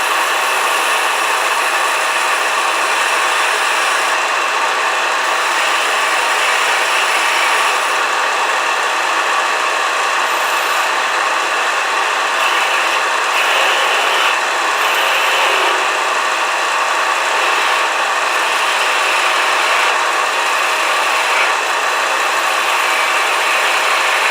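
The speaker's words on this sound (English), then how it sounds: "Do a little sanding." A steady, loud grinding hiss of sanding a wooden bottle stopper spinning on a lathe screw chuck runs continuously over the motor hum, with no voices.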